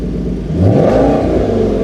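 A car engine with a faulty exhaust valve, in a driving video game, revs up from idle into a rough, droning whir that holds steady at high pitch for a second or so, with no voices over it.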